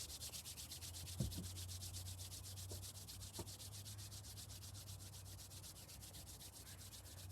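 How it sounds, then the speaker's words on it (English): Steady soft friction of hands rubbing together during a quiet morning practice, a continuous close whispery rub with a few faint taps, alone against a low background hum. "rubbing the hands together again"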